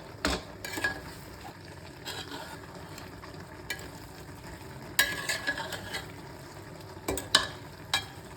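Goat intestines cook with onion, ginger and garlic in a pot for kudal kulambu, a low simmering sizzle under repeated scraping and clinking of a spoon stirring against the metal.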